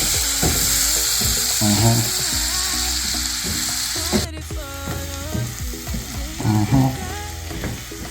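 Garlic butter clams fry and get stirred in a pan: a loud continuous sizzle close up, punctuated by repeated scraping and clattering of shells and utensil against the metal, with no voices.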